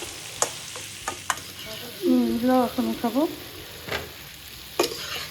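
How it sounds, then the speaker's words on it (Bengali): Grilled chicken and vegetables, Turkish style, fry in a pan with a soft sizzle and scattered stirring clicks. A voice speaks briefly midway. "এখন এটাকে একটু ভাজা দেবো"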